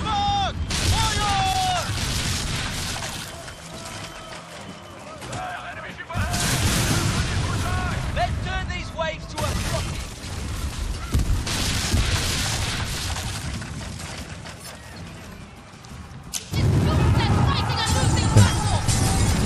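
Ship cannons boom in repeated heavy volleys during a Skull and Bones naval battle, loud rumbling blasts and crashing impacts stacking over one another with speech mixed in.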